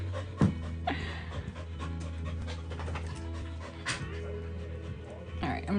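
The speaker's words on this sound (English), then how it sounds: "You hyper ass dog." A hyper dog pants rapidly and rhythmically close by, quick breathy huffs repeating steadily, with a few small whimpers and people talking in the background.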